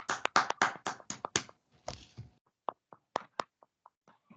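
At a church service, a small group claps to welcome the pastor: quick, close, crisp claps at first, thinning into scattered single claps with gaps of quiet.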